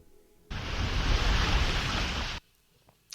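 Ocean surf from the 2012 film It's Such a Beautiful Day rushes in as one loud, roaring wash lasting about two seconds, then cuts off abruptly to near silence.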